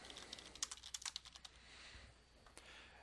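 A handful of quick computer keyboard keystrokes clatter faintly but close by in an irregular burst, then give way to quiet room hiss.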